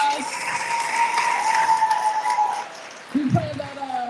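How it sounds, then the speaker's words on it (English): Audience applause at a school alumni class reunion and community celebration, a steady wash of clapping that carries on for about three seconds with a tonal whistle-like line above it, then thins out as a voice speaks over the end. "let's give her another round of applause"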